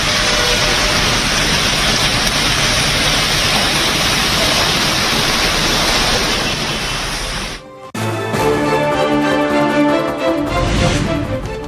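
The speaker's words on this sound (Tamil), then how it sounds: "மும்பையில் விடிய விடிய கொட்டிய கனமழை" Heavy rain pouring down in Mumbai, a loud, dense and steady roar of downpour for about eight seconds before a brief break and a shift to a more varied, busier wash of sound.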